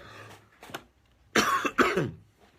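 Two sharp, loud coughs close together during a podcast recording, preceded by faint breathing sounds, with no speech.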